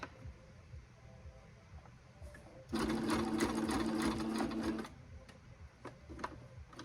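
A sewing machine stitches through a thick extra-large potholder in one steady burst of about two seconds, rapid and fairly close, with quiet room sound before and after.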